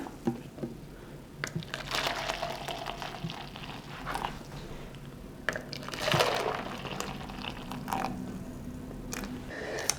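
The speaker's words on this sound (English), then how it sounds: "So some water in each one of these." Water is poured into several containers set up for dyeing, with soft splashing and trickling pours in a few separate bursts, close and moderately quiet, mixed with crinkling handling noises.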